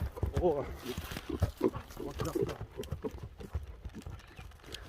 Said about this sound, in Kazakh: Жылоосу жакшы экен аттын, а?